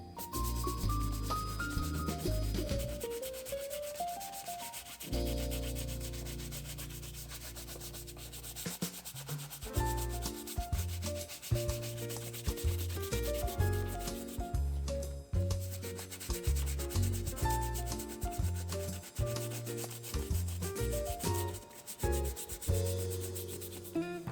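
Doc Martens leather boots scrubbed with a small brush and a foamy cleaning mixture, giving steady rhythmic rubbing strokes close up, with no talking.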